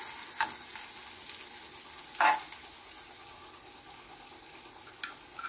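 Garlic sautés in butter over lowered heat in a pan, a quiet, close, high hiss of sizzling with a few brief scraping clicks from stirring, no talk.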